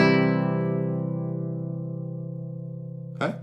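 A single basic guitar chord with the open first string rings out once and slowly decays as a sustained, clear harmonic tone, with a brief scrape or string noise near the end.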